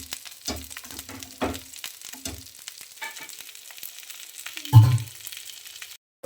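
Mackerel fries in oil with a soft steady sizzle, broken by utensil taps and one heavier thud near the end.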